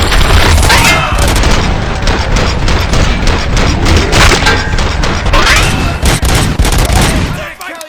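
Loud, dense gunfire from a weapon in Robocop Rogue City, rapid continuous shots with crashing impacts and booms over several seconds, with voices underneath.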